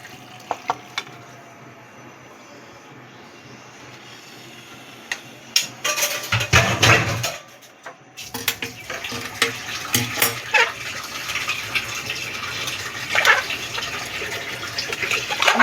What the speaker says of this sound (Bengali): এবার আমি এই জলটা প্রেসার কুকারে নিয়ে